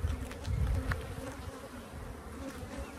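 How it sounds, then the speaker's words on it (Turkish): Honeybees and drones buzzing on a hive frame, a dense continuous hum that stays close and steady throughout. "Erkek arılar da var."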